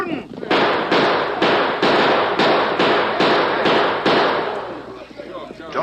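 Gunshots in a 1942 western radio drama, a rapid volley of about nine loud, evenly spaced cracking shots fired close together, with raised voices faintly mixed in.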